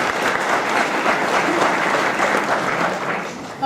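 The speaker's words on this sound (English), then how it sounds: "So another round of applause for Dawn for getting that together." Sustained applause from an audience at a Conifer area town hall meeting, an even, fairly loud crowd of clapping lasting several seconds before easing slightly at the close.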